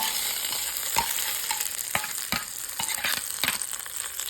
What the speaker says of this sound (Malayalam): മുളക് ഇട്ട് കൊടുക്കാം, കറിവേപ്പില ഇട്ട് കൊടുക്കാം